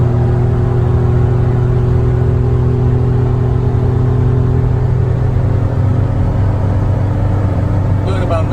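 A 1990 Mitsubishi MiniCab kei van with a five-speed and air conditioning drives at speed with two people aboard, its engine humming in a steady loud drone with road rumble and whir throughout.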